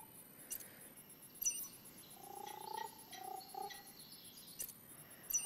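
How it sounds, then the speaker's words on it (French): A virtual frog in the VR game ARK Park gives a few soft croaks in the middle, faint against a quiet hissy game background with small chirpy clicks. "Et du coup, ici, on a la grenouille."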